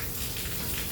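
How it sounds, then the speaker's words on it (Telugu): Heavy rain pours down in a dense, unbroken hiss, loud and steady throughout with no gaps. "అసలు ఎంత పెద్ద వర్షం పడుతుందంటే"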